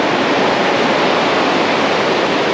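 Surf washes and recedes on an ocean beach at Lake Bunga, a close, steady broadband rush of water and foam without pause.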